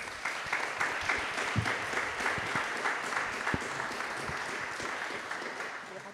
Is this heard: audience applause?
yes